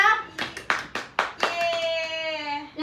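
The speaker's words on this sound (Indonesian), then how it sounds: "Tepuk tangan buat Leusna." A classroom gives a student a short round of applause, several quick bursts of hand clapping in a loose rhythm, followed by a sustained cheering voice.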